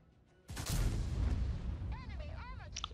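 A tank cannon fires in a tank video game, a single loud booming blast that erupts suddenly and rumbles on for a couple of seconds, with faint voice-like tones near the end.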